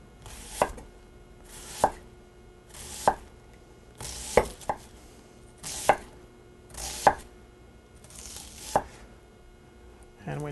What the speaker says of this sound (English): just slicing along the onion. Kind of thin.